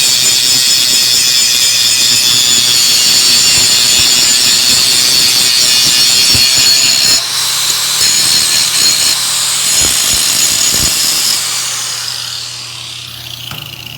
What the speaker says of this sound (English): So I'm just gonna do a little bit of grinding on one side here